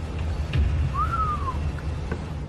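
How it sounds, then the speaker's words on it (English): A single short whistle in an empty building, a clear tone bending up then sliding down, heard once over a low room rumble with faint knocks nearby and no talking. "she hears a whistle"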